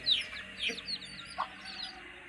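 Easter Egger and Cochin bantam chickens clucking in a backyard coop, with several short, close clucks and squawks scattered over a couple of seconds.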